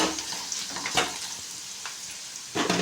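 Spiced puffed rice with turmeric being stirred in a pan, a soft continuous sizzle with scraping stirs and a few sharper clinks, fairly close and alone.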